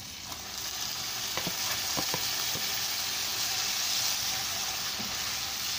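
Chopped tomatoes sizzle steadily as they fry in a masala paste for a rajma kidney-bean curry, with a few soft scraping stirs breaking through the continuous hiss.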